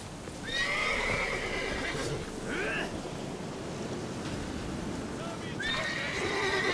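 Horse neighing twice in The Witcher 3 video game, a loud whinny near the start and another near the end, over a steady rain-like background with hoof clops.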